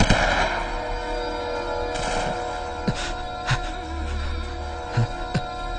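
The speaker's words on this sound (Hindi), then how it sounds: "हम पे गोली क्यों चला रहा है?" Scattered gunshots crack through a Hindi movie battle scene, several sharp reports spaced a second or so apart over a steady rumbling background.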